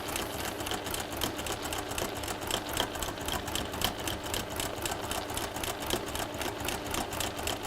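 A sewing machine stitches a textile block, running continuously at close range with a rapid, even mechanical chatter.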